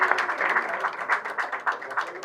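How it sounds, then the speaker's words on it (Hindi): Brief clapping from a small audience at a scholarship award event for top-ranking female engineering students, a moderate, slightly uneven patter of hands with a pulsing rhythm, fairly close. "आप लोग तालियां बजाइए थोड़ी सी"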